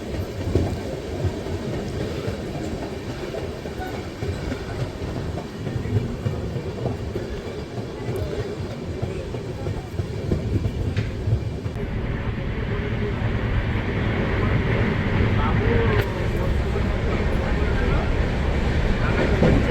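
Dhauli Express from Puri to Shalimar running at speed, a continuous rumbling roar with rattling carriages that swells louder toward the end, with voices talking underneath.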